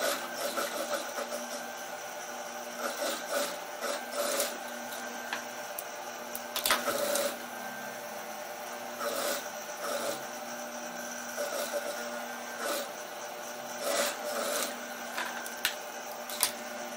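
A sewing machine stitches a dress seam, running in short bursts of rapid mechanical whirring and ticking with pauses in between, close and moderately loud.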